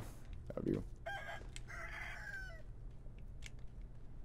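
Chickens in the video game Sekiro: Shadows Die Twice cluck and call, with a short rising squawk followed by a few brief crowing cries over a low background hum.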